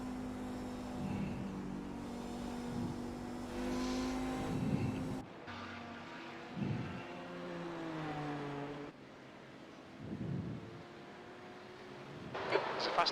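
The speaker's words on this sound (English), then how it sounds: "There's a faster car approaching." Race cars in a racing game drone steadily with engine tones shifting between gears and cuts of camera, moderately loud, while people talk intermittently over the engine noise.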